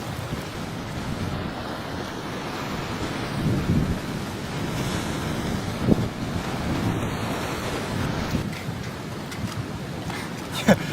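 Ocean surf washes steadily against the shore of one of the Azores islands, a broad continuous roar with swelling surges, mixed with wind buffeting the microphone and a few faint thuds.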